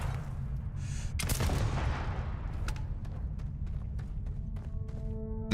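Ballistic weapon fire in Starfield: a few sharp, booming shots at moderate distance, heard over a busy, rumbling combat background with no one talking.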